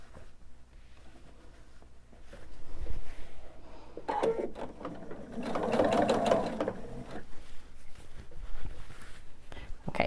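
A sewing machine stitches quilt binding around a corner, its motor running in a steady mechanical whir with busier bursts in the middle, heard close up with a hint of background speech.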